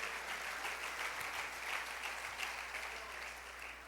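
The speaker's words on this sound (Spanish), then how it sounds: "Dale ese aplauso a la gloria del Señor." Church congregation applauding: steady, dense clapping from many hands, sustained at an even level for a few seconds and slowly tapering at the end, heard from a distance.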